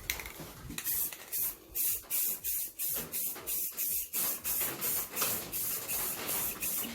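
Spray coating plastic taillights on a 36-year-old Camaro, rapid repeated hissing bursts from a spray gun in short even pulses, close and fairly quiet.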